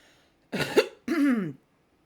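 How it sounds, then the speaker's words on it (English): Two short, close throat clears in quick succession, rough and gravelly, with quiet before and after. "There, I had to clear my throat."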